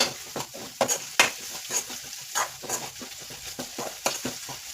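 Asafoetida dropped into hot oil and stirred, giving a soft sizzle under repeated scraping stirs of a utensil against the pan, near and moderately quiet.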